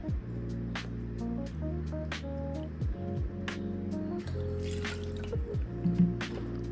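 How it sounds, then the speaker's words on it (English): Half a cup of vinegar for chili sauce pours and drips close by in short liquid bursts, over soft background music. "We're also going to take a half a cup of vinegar."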